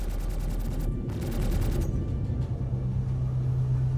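Laser cannons fire from a spaceship in the game Star Citizen: a quick run of pulsing shots for about two seconds, then a steady low engine rumble and hum that carries on alone.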